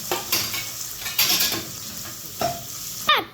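Green chili frying in a pan for crab masala, with a soft sizzle broken by several scraping stirs of a spoon against the metal and a final clink; no one speaks.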